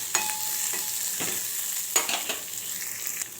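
Onions and coriander seeds fry in hot oil, a steady close sizzle broken by several scraping stirs of a spoon against the pan.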